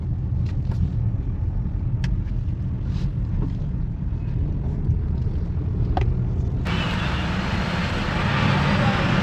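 Maruti Brezza rolling onto Kalyani Road, a steady low engine and road rumble from inside the cabin, swelling into louder broadband road and wind noise partway through.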